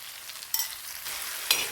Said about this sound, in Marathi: परतून घ्यायचं कच्चेपणा जाईपर्यंत.